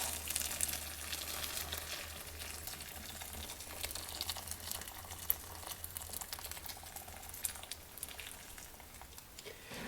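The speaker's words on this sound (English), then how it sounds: "You take boiling hot water, carefully now, pour it in here" A steady, bubbly hiss of boiling water being poured into a container, continuous and close, with faint crackling throughout and no talking.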